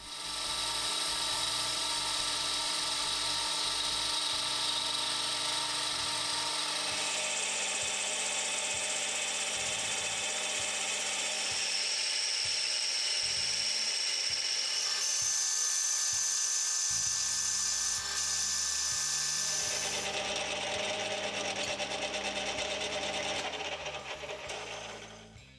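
A metal lathe turns and cuts bronze pivot parts for a knurling tool arm, producing a continuous high whine and ringing tones with shifting pitch, close and steady, with rhythmic mechanical clatter underneath.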